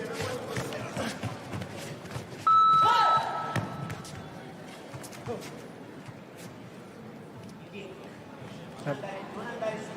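A karate match timer sounds a clear electronic beep, held for about a second, at a World Karate Federation finals in Dublin, over crowd noise and the thuds of competitors moving, with a commentator talking throughout.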